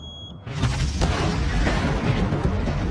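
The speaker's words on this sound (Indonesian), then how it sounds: "bos memerintahkan untuk meledakkan jebakan bom yang telah mereka pasang" Bomb trap exploding in the 2022 film Dead Zone, a sudden loud blast that cuts off a beep tone and rolls on as a broad, rumbling roar with crackling debris.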